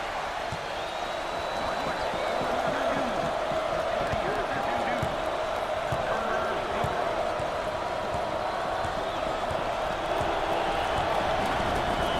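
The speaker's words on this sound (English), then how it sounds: "Just gonna let the noise produced by the crowd here speak for itself" A packed basketball arena crowd at a Louisville versus Kansas Sweet 16 game roars continuously and loudly throughout, a dense wall of cheering with faint ball bounces and squeaks beneath, no commentary over it.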